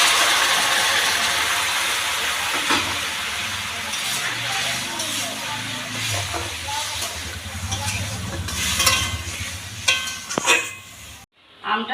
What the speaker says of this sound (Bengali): এবার আমটা ভালো করে যাতে সেদ্ধ হয় তার জন্য এতে আমি খুব অল্প জল অ্যাড করে দিলাম